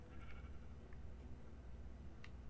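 Sheep bleating in a farm-building video game, with a few short, faint bleats over a steady low hum and no talking.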